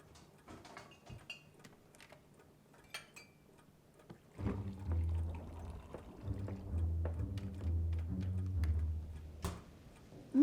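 Water is poured into a glass for a drink, a gurgling pour of several seconds that begins after a few quiet clicks and small knocks.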